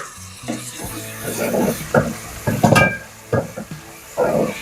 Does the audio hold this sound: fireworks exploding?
no